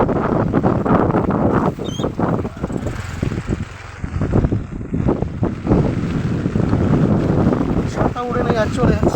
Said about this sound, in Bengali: প্রচণ্ড হারে বৃষ্টি হচ্ছে, ক্যামেরা করতে দিচ্ছে না, এত বৃষ্টি হচ্ছে আর এত বাতাস হচ্ছে